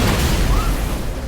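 A film explosion rocks a hotel building during a wedding, a loud, dense low rumble that fills the whole moment without a clear attack, like the sustained roar after a blast.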